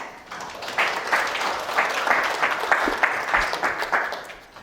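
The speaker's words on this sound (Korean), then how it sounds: "박수로 모셔보도록 하겠습니다." A seminar audience on housing policy applauds to welcome a real estate expert, a steady wash of many hands clapping at moderate distance, sustained throughout.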